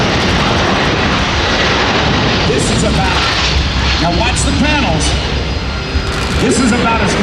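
A C-17 Globemaster III's jet engines roar with thrust reversers deployed during an air show demonstration at MCAS Beaufort, a loud continuous blast with a spectator voice speaking over it.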